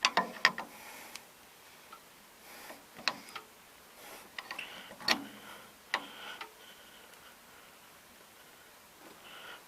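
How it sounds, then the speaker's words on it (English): Faint, irregular ticking and clicking comes from the magneto tripping on a 1948 Farmall Cub engine as it is turned over, with scattered sharp clicks over a quiet hiss. "Mag seems like it's tripping."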